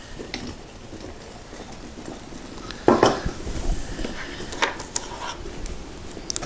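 Petromax Perkomax coffee percolator on a strong gas flame, a continuous crackling sizzle with scattered sharp pops and a brief clattering metallic knock midway.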